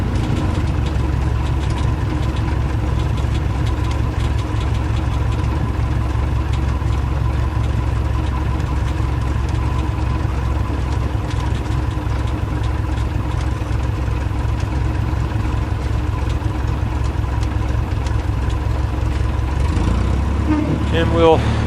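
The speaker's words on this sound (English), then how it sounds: "we'll run the engine a little bit. See if we can increase the oil temperature just a tad." A small airplane's piston engine runs on the ground near a hangar after taxiing, a steady, loud droning hum held throughout, with a shift near the end.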